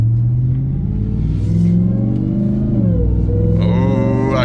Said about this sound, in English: we're gonna see how this thing sounds from the inside with the windows up.